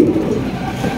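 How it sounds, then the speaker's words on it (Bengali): A pair of jet-black Danish pigeons give a brief, close, low cooing sound that fills the short moment. "এখানে রয়েছে একজোড়া ডেনিশ কবুতর, ব্ল্যাক ডেনিশ, জেড ব্ল্যাক"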